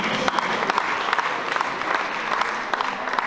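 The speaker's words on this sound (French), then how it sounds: "Excusez, applaudissement pour celle-ci" A crowd at an award ceremony applauds steadily throughout, a full, even patter of many hands with occasional sharper claps.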